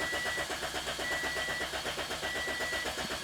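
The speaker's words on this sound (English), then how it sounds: "Now it's only cranking, it's not starting." A Toyota Corolla engine cranks steadily without catching, the starter's rapid rhythmic churn continuing evenly and close by for the whole stretch.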